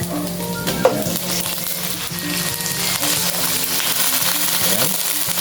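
Chicken pieces go into a hot pan for sautéed patola with chicken and sizzle loudly and continuously, with a knock and stirring scrapes over the frying.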